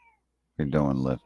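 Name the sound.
cat meowing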